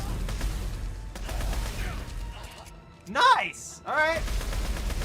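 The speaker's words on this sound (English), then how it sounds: "We really just turned it into a machine gun." Rapid bursts of gunfire from a machine gun in the video game Dead Space 3, loud and clustered, with a player's voice speaking briefly over and between the shots.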